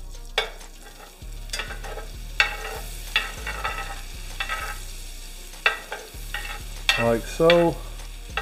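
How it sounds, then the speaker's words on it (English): Three-quarters of a stick of butter melting in a quarter cup of oil for a gumbo roux, a steady close sizzle broken by scraping stirs and clinks, with a brief spoken aside near the end. "We're gonna go in with 3/4 of a stick of butter. We're gonna let that do its thing and melt."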